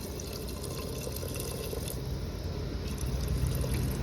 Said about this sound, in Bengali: জলটা দেবো। আরো জল লাগবে, আর একটু জল লাগবে,